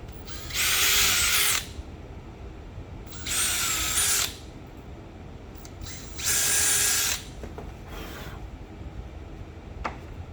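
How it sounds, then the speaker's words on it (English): A power drill with a 7/64 bit whirs in three separate bursts of about a second each, drilling screw holes, with quiet pauses between them, close by. "I'll take the drill bit, and this is 7/64"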